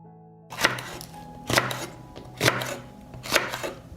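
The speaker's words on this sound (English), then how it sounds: "I need 2 heads of garlic and 2 hot peppers. I will cut them and grind them." A knife chops garlic heads and hot peppers on a board in four sharp, evenly spaced strikes about a second apart, each a crisp thud, close and clear with quiet between them.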